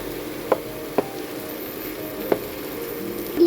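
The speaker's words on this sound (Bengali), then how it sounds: "আলুটা দিয়ে ভালো করে কষে নেব" Grated potato is sautéed in a pan in a home kitchen, a soft steady sizzle under a few sharp scrapes of a spatula.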